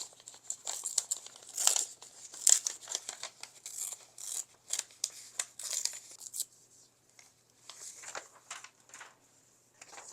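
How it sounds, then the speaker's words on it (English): A sheet of printed paper torn by hand around a design, with irregular crinkling and short ripping bursts that come in quick clusters with brief pauses, close and fairly quiet. "I'm just going to tear around the design that I want."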